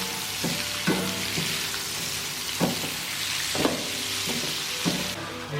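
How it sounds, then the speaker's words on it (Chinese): Cabbage stems stir-fried fast over high heat in a wok with bean paste, a loud continuous sizzle broken by repeated scraping clanks of the spatula at an uneven rhythm, close and without talk. "开大火快速的翻炒，翻炒均匀"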